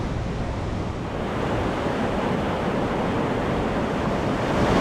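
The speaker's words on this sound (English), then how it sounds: "There's the waterfall." Krimml waterfall, Europe's biggest, roaring as a steady broadband rush of falling water heard from near its base, constant and loud with some wind buffeting and no voices.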